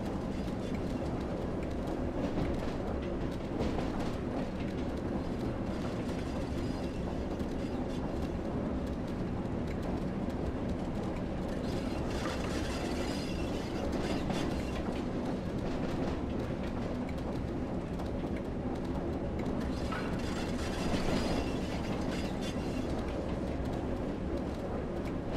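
Class 08 diesel shunting locomotive in Train Sim World 2, running along the rails toward a siding: a steady, continuous engine drone with rolling wheel noise and light clatter, loud and unbroken throughout, with no talk.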